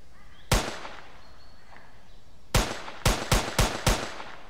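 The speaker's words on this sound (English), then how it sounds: "So I shoot and don't hit a target, that's a miss" Gunshots fired in an Unreal Engine 4 game test: one sharp report, a pause, then a quick burst of five evenly spaced shots, loud and close against a quiet background hum.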